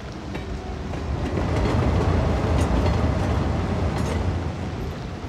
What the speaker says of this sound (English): We should see the passenger trains coming in as well in a moment.